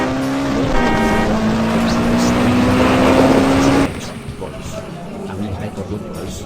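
An animated car accelerates hard, its engine note climbing steadily for several seconds before cutting to a lower rumble, loud and close, with a character's voice over it.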